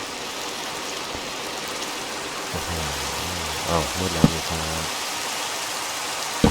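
Rain falls in Minecraft as a constant soft wash of hissing drops beneath a man's short excited remarks, with a couple of small clicks near the end.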